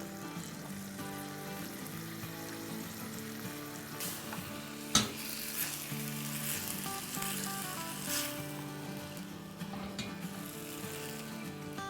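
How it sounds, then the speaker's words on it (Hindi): Chana dal frying in a pot, a soft, steady sizzle with occasional scraping and clinking of stirring, faint and continuous, with one sharp tap midway. "1 कप चने की दाल है, ये चली गई इसमें।"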